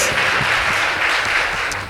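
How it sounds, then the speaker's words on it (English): A school audience applauds the Kapsabet Girls High School debate team, giving dense, loud, continuous clapping that fades slightly toward the end. "Please give them a round of applause."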